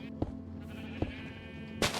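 Sheep in the video game Minecraft give two short, quiet bleats and then a brief louder burst of sound at the end, with no one speaking.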